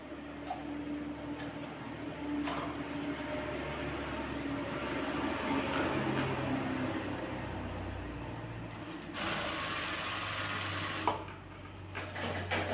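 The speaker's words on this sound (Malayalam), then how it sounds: "ഇതിൻ്റെ അരിക് നമ്മൾ തയ്ച്ചെടുക്കണം" A sewing machine stitches the edge of a nightie zip piece, its fast even needle chatter running steadily and close, with a few brief clicks and pauses near the end.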